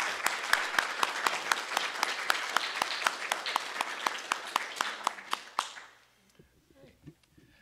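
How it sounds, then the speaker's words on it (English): An audience at an Alexandria Historical Society evening event gives steady, moderately loud applause for about six seconds, with individual sharp claps standing out, before it fades into quiet room sound. "let's all give a round of applause"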